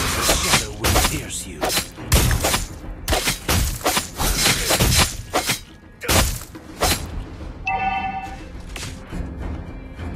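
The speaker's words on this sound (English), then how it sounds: "Our turret has been destroyed." Dense crashing blasts and shattering impacts from a video game battle as a turret is destroyed, loud and continuous, with a short electronic tone near the end.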